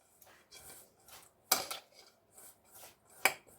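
Chickpea flour and rice flour being stirred together in a bowl, with soft rhythmic scraping strokes and two sharp utensil clinks against the bowl.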